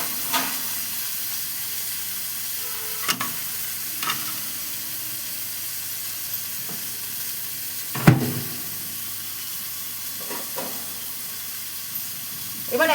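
Rohu fish wrapped in bottle gourd leaves sizzles quietly in oil on low heat, a steady soft hiss with occasional sharp clacks and knocks.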